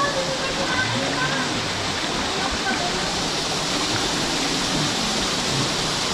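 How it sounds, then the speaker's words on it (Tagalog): Waterfall on a mountain trail near a lagoon in Lobo, Batangas, a steady, dense rush of falling water filling the whole stretch, close and continuous. "may falls pala dun, oh"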